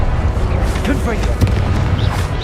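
Spellcasting combat in Hogwarts Legacy, with a Confringo fire blast bursting into heavy, rumbling booms under a voice shouting incantations.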